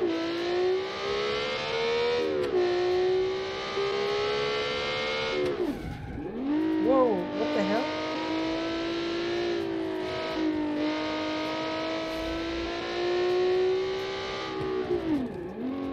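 A 280 horsepower race car in BeamNG, its engine droning and revving hard through repeated gear changes, with pitch dips between long high-revving pulls, close and loud without talk.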